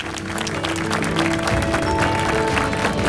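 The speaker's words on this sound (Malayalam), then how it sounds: "ഒരു വലിയൊരു കയ്യടി നമുക്ക് കൊടുക്കാം." An audience claps steadily at a Bible quiz grand finale, a dense, even burst of applause lasting a few seconds with a faint tone and murmur underneath.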